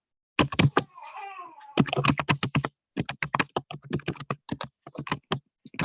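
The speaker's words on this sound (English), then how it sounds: "I'm typing the notes with you if you hear me." Notes typed on a computer keyboard: quick bursts of crisp key clicks in uneven runs, close and clear, with short pauses between bursts and a faint meow-like sound early on.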